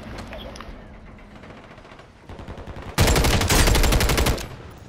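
Video game gunfire: quieter sporadic shots at first, then a loud burst of rapid automatic fire lasting about two seconds close up, with faint voices in the background.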